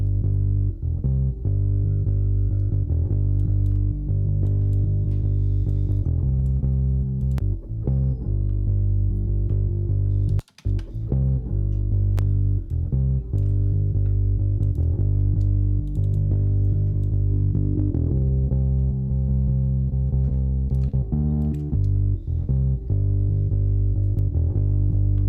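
DI bass guitar run through EQ and a compressor, playing a steady, loud, low-end riff with repeated plucked notes and a gritty edge, with a brief dropout near the middle.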